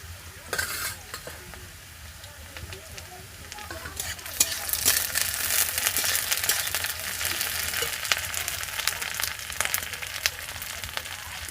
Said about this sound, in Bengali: পেঁয়াজগুলো রসুন দিয়ে ভেজে নিতে হবে